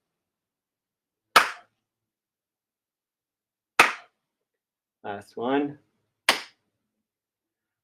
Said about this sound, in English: On the exhale, we clap the back hand forward